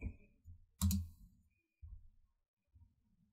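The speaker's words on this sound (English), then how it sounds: "So now when you push spacebar, what happens?" A few isolated thock-like presses of a computer keyboard spacebar, spaced irregularly, quiet and close, with one sharper loud click.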